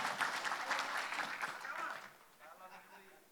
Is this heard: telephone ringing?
no